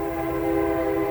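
A train passes near a home, a loud steady drone with a sustained horn-like tone for about a second.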